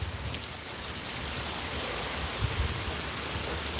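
Steady morning rain falls by a front porch, a dense even hiss of drops on surfaces with no voices.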